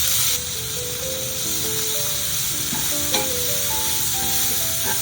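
Leeks and garlic hit butter in a hot pan and sizzle steadily, a loud, continuous, close frying hiss with faint stirring, and no talking.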